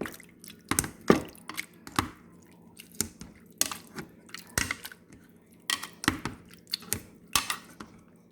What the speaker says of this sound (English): And then we are just going to hand mash.